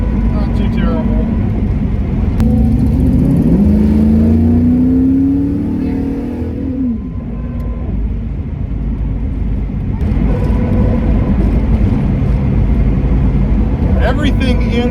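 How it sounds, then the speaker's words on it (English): A 1989 Camaro IROC with freshly rebuilt front suspension and steering drives along, its engine and road noise a steady loud drone with a rising engine tone partway through. "The car is driving fairly straight, which is not too bad considering we just replaced all those steering parts"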